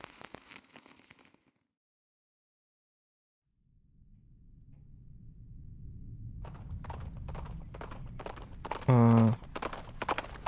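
Horse hooves clip-clopping in the video game Reverse: 1999, a rhythmic run of hoof clops over a low rumble, brief at the start, then resuming after a silent gap and building, with a short loud tonal burst near the end.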